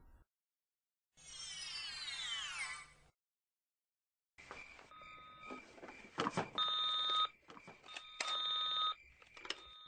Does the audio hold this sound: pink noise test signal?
no